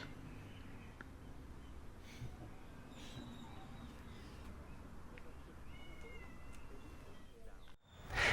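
A faint cat meows a few times over a low background hum, ending with a louder, closer burst of noise.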